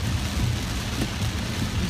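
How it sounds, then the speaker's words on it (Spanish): Heavy, unexpected rain pours down in a steady, dense roar that fills the whole stretch without pause or speech. "hay una lluvia terrible y no anunciaron lluvia"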